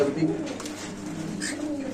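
A Damascene pigeon coos softly and repeatedly, close by, while people talk over it.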